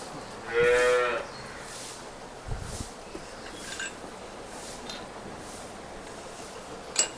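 A dairy cow in a Punjab village moos once, loud and close, early on, followed by quieter rustling and small thumps of a farmyard; no talking.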